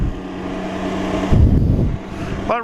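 A Can-Am Ryker 900 three-wheeler rides around a go-kart track, its engine droning steadily up close, surging louder midway, then rising in a brief whining rev at the end.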